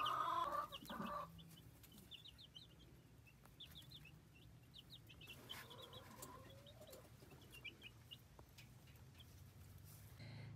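Newly collected baby chicks make soft, rapid peeps and clucks in a quiet room, with a louder burst at the start followed by faint, scattered calls.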